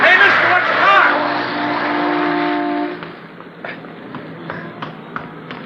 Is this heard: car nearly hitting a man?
yes